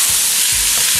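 Onions browning in a hot pan for venison goulash fry with a loud, dense, continuous sizzle, close up, with faint low stirring thumps underneath.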